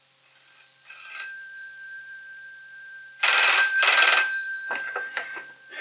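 A telephone bell rings in a home, two loud close bursts of rattling trill after a faint earlier ring, followed by a softer clatter as it is picked up.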